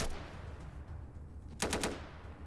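Gunfire in the video game Atom RPG sounds as a short rapid burst of automatic shots, fairly distant and faint over low background rumble.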